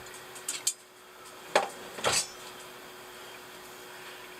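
Ingredients being mixed in a bowl in an RV kitchen, a few separate clinks and scrapes of a utensil against the bowl, spaced out and fairly close, with quiet pauses between.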